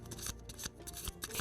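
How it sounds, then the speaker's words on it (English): A deck of tarot cards being shuffled by hand, quick riffling and rubbing bursts in a rapid, uneven rhythm, close and clear with no talk. "And I want you to shuffle the cards like this."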